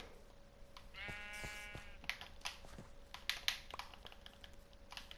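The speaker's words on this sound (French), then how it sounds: "Toi, tu restes là, le mouton." A sheep in Minecraft on PS4 gives one wavering bleat, clear and up close, followed by a run of quiet, irregular clicking sounds.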